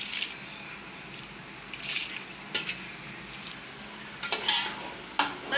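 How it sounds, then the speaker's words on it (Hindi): A spoon stirs rice in a pot of boiling water while cooking keema and rice at home, with soft scraping and swishing strokes, a few louder clanks against the pot, and faint bubbling underneath. "तो देखिए जनाब चावल के पानी में उबाल आ चुका है। हम इसमें चावल डाल देंगे।"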